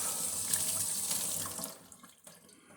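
Tap water runs steadily over a hydrometer being rinsed during pineapple fruit wine making, a close, even rush that cuts off partway through, leaving faint drips and small clatters.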